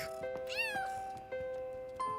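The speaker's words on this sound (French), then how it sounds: "Caillou faisait une très bonne chose en rendant le chaton" A cartoon kitten gives a quick rising-and-falling meow over steady musical tones, with soft bright accents continuing after it.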